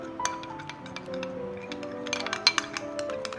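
A spoon clinks against a bowl while stirring yellow food colouring into a little mango puree for mango ice cream, with light, irregular taps and scrapes close by.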